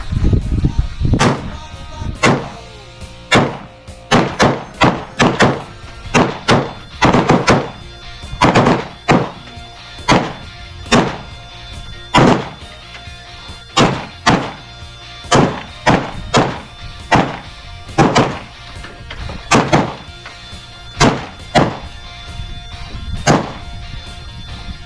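Live gunfire at a night shooting range in Westcliffe, Colorado: a long series of sharp, loud shots, fired singly and in quick pairs at irregular intervals over roughly twenty-five seconds.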